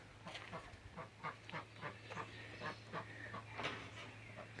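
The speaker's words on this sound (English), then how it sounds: "The ducks are in here." Ducks in a wooden coop with shavings on the floor, quacking in a quick run of repeated calls over a steady low hum, faint and close together.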